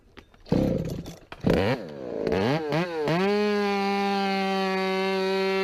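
A chainsaw starts with sputtering pulls, then revs up and settles into a loud, steady high whine close by while a tree is being felled, with no talking.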